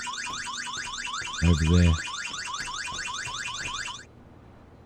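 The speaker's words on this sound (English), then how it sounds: "oh crap, we're going to need to turn the alarm off" A car alarm blares in the zombie survival game Vein, its rapid rising-and-falling electronic whoops repeating steadily and loud for about four seconds before cutting off abruptly; a voice speaks briefly partway through.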